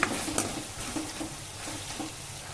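Drumstick pieces fry in a pan after chili powder goes in, a close continuous sizzle broken by repeated spatula scrapes and light knocks against the pan, with no one speaking.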